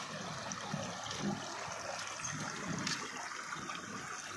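Clear spring water flows steadily into ponds at a spring site, a continuous close trickle and stream of water with no voices.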